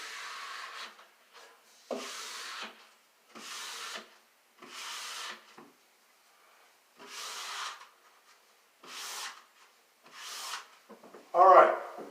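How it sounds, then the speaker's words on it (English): Squeegee strokes pressed over decorative window covering film: a series of about eight rubbing swishes, each lasting around a second with short pauses between, fairly close and moderately quiet, with a brief louder scrape at the end. "Squeegee it again."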